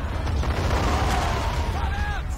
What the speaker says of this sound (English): This is the artillery shooting up again.